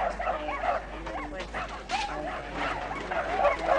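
A dog makes soft woofs and yips mixed with whimpering, close by, in short repeated bursts over faint background voices.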